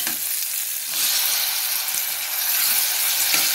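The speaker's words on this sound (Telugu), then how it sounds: "ఇప్పుడు టమాటా ముక్కలు వేసేసుకుంటున్నాను." Tomato pieces frying in a pan with onions, a loud continuous sizzle and hiss that flares slightly partway through, alone without talk.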